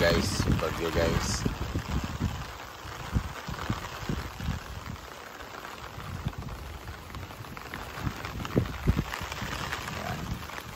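Steady heavy typhoon rain pours down with gusting wind, a dense constant roar throughout, with occasional louder splashes and brief voices underneath.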